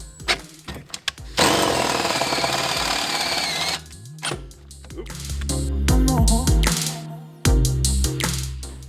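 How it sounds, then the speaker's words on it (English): A power drill bores holes through a Mazda Miata's metal car floor for racing seat mounting: a high whining run of a couple of seconds, then stop-start bursts of drilling with clunks and handling noises, loud and close. "So now we're just going to drill."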